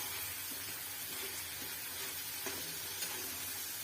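Matar paneer masala gravy sizzles in a hot kadhai while being stirred, a steady close hiss of frying with faint scraping strokes of the spoon, no talk.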